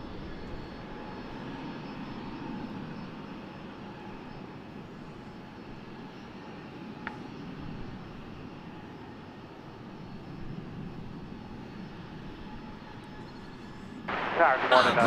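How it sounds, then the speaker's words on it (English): A plane lands on runway 18 left at DFW Airport, its engines a faint, distant, steady rumble that rises slightly near the end, with a voice talking over it. "that plane was coming in on runway 18 left"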